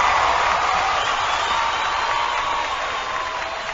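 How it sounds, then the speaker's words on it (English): A radio studio crowd-cheering sound effect, a dense wash of applause and cheering from a large audience, steady and loud throughout before easing slightly toward the end. "crowd goes wild"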